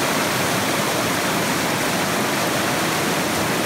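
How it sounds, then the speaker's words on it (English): Strong, powerful river water flowing fast along a New Zealand trail, a loud, dense, continuous rushing roar close by that fills the whole moment with no other sounds. "You see the water is already clear, but it's still very strong and powerful."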